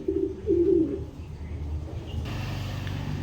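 A pair of tiger grizzle pigeons coo softly in a brief burst near the start, followed by quiet low background rumble.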